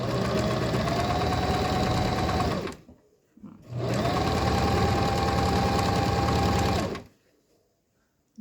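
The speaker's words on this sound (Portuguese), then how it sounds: "posiciono na máquina, venho pra trás, posiciono ali e vou costurando" A sewing machine stitches patchwork fabric for a quilt, running loud and close in two steady bursts of rapid mechanical whirring, separated by a brief pause and ending in near silence.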